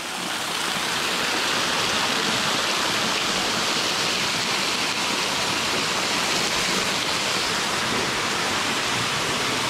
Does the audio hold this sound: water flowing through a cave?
yes